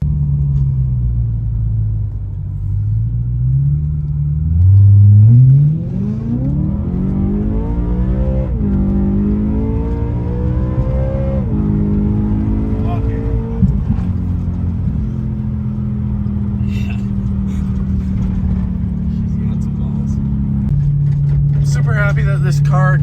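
A car on its first drive after repair runs with a steady engine rumble that rises as it accelerates through gears, mid-distance and continuous, with occasional rattles near the end.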